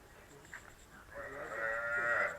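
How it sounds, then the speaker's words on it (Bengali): A cow gives one drawn-out, rising moo close by, swelling louder toward the end after a brief quiet moment. "গরু ডাকছে বাছুর তোমাকে দেখে।"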